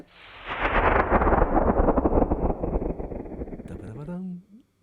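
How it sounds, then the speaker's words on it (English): A synthesized thunder rumble swells and roars loudly for a few seconds, fading as a short swooping tone ends it. "This Thunder sound comes in various different sauces."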